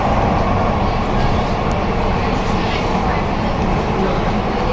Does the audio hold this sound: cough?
no